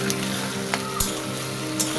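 Chopped tomato and ginger frying in a pan, with a steady low sizzle and a few soft scrapes of stirring spread over a couple of seconds.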